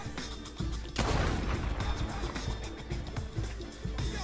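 Gunfire in the online Western game Red Dead Redemption Online: a sudden loud blast followed by a dense, rumbling burst of shots and booms, with players talking over the action.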